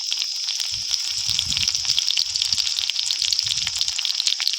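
Dried red chilies frying in hot oil in a pan for a greens dish, a steady close hiss and sizzle with soft crackles throughout.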